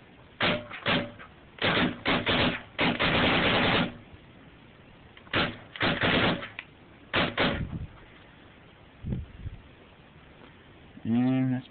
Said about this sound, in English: He's shooting as fast as I can possibly shoot.